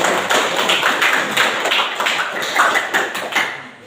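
Classmates clap for their peers in a classroom, a brief burst of group clapping with uneven, fairly close hand claps that stays steady before fading slightly.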